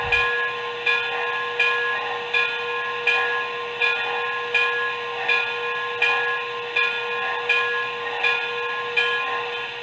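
A K-Line two-truck Shay toy locomotive bell rings in a steady rhythm, about a dozen evenly spaced clangs over a constant steamy hiss.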